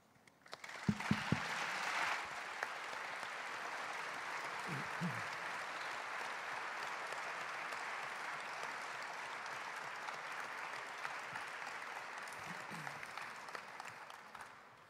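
Sustained audience applause at a philosophy talk, a broad wash of clapping from a large crowd that continues steadily without pause.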